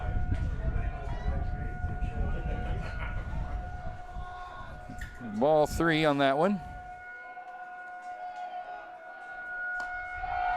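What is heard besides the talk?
weekly tornado siren test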